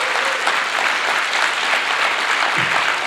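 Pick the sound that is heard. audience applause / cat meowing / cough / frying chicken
audience applause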